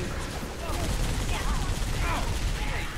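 Steady, dense turret gunfire in Halo 3 on Legendary difficulty: a continuous rattling barrage, loud and close, with no pauses across the stretch.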